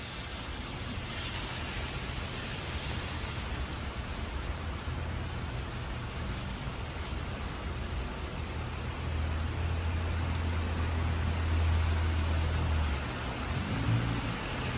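A steady wash of rain falls over a New York street on an afternoon during a week of wet weather. It is continuous and even, with a low rumble growing near the end.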